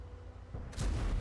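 Artillery fires in a tank video game: a quiet rumbling stretch gives way to a single heavy boom that swells and lingers near the end.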